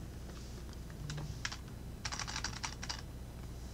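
Computer keyboard keys pressed during a demo of the Logseq note-taking app, including Enter and Tab presses: a few scattered clicks followed by a quicker burst of several keystrokes, close and fairly quiet, with no talking.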